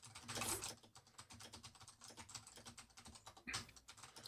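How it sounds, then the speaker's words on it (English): Fingers type on a computer keyboard during a live comic art session, a quiet, irregular patter of key clicks with a few louder bursts, heard alone without talk. "You can probably hear me typing."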